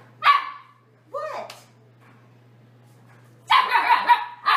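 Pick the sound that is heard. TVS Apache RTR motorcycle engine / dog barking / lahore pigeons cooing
dog barking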